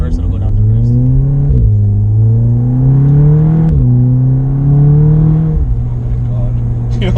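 Cabin view of a 400-horsepower stage 2 Volkswagen Golf R accelerating hard, its engine droning upward through several gears with short breaks at each shift, loud and close.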